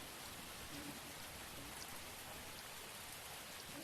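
Steady rain ambience from a tabletop role-playing game session, an even, continuous hiss of falling rain at moderate volume with no voices over it.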